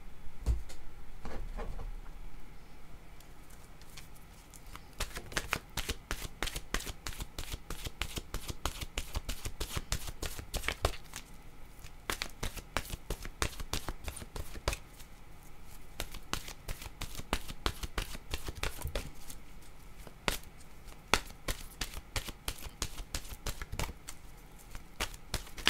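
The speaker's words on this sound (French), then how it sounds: "je vais demander une carte maintenant de mon oracle de l'âme intuitive" Oracle cards are shuffled for an intuitive reading, giving a long run of close, crisp card flicks and riffles. The flicks come in dense bursts with brief pauses between them, and no one speaks.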